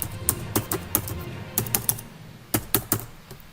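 Keys clack on a computer keyboard as an Aadhaar number is entered into a Central Bank of India banking screen, sharp close taps in short uneven bursts with brief pauses, no talking.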